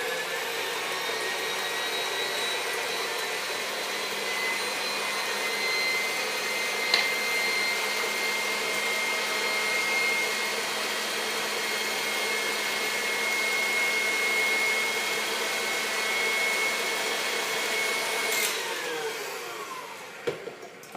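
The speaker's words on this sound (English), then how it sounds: "I'm going to just beat this until it gets nice and foamy, which should just take a few seconds in this mixer" Stand mixer whipping egg whites until foamy for a flat chocolate meringue, a steady loud motor whir holding evenly for about twenty seconds before cutting off abruptly at the end.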